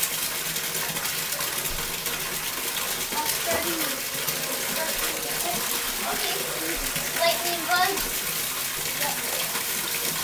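Water runs steadily into a bathtub with a continuous splashing rush, while someone talks over it.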